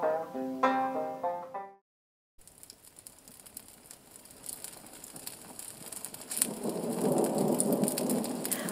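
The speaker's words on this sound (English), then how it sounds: "that storm sure is a stomping around out there like a spoiled child throwing a tantrum" Heavy rain pours steadily with rolling thunder building toward a loud, dense roar of rainfall, following a brief musical passage and a moment of silence.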